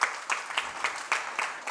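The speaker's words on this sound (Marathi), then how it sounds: "तर त्यांच्यासाठी एक जोरदार टाळ्या." An audience at the Krantijyoti Savitribai Phule Samvidhan Rakshak award ceremony applauds in a rhythmic, evenly pulsing clap, moderately distant and fairly soft, with no talk over it.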